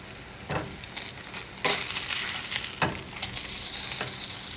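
A burger frying in a pan with chopped ghost pepper on top, sizzling steadily with a few louder bursts and spatters as it is flipped and moved.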